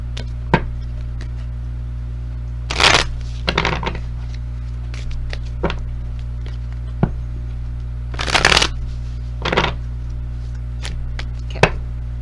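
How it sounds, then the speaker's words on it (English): Tarot cards shuffled by hand in a few quick riffling bursts, with soft taps and card slaps between them over a steady low hum, close and alone without talk. "we'll just start pulling cards and see what comes up here"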